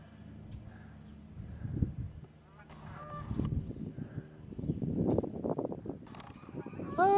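A flock of geese honks over a farm, a few scattered calls rising and fading at moderate distance amid rustling and light handling noise, fairly faint overall.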